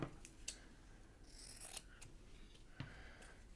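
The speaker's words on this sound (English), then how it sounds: "now let's just cut" Scissors snip through paper for a junk journal cover in a few quiet, close crunching cuts with soft rubbing and handling noise between them.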